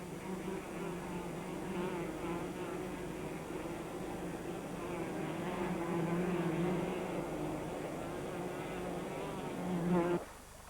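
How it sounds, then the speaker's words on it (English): Honeybees on the island of Hormuz buzz steadily inside a thick-walled salt cave while building their nest, a dense, continuous swarm drone that swells slightly toward the end before cutting off. "Inside, the bees are already busy nest building."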